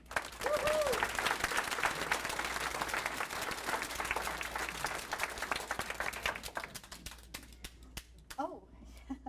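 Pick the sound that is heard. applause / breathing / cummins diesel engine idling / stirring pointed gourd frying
applause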